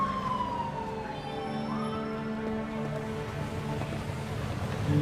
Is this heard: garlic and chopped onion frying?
no